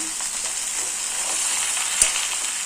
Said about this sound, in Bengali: এবার ডাঁটা এই মাছের মাথা, সবজি, মশলার সঙ্গে খুব ভালোভাবে মিশিয়ে দিচ্ছি